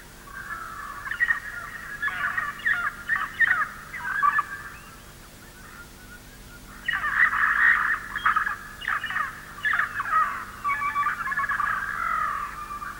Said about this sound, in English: Parrots are very noisy, gregarious birds.